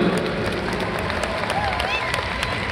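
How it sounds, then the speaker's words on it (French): Applause from the audience at a junior Latin dance competition, a dense steady patter of many hands, fairly loud with some crowd noise mixed in. "applaudissements nombreux et chaleureux."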